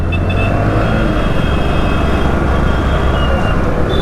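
A Bajaj Platina 110 motorcycle with a catalytic converter running while being ridden, giving a close, steady engine hum mixed with road and wind noise; no speech.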